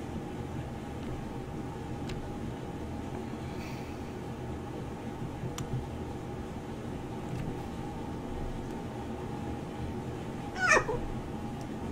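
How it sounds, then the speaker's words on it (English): A house cat meows once, a short clear call near the end, over a steady low background hum of game audio during a Portal 2 play session. "What do you want, cat?"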